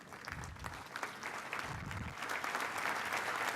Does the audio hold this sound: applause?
yes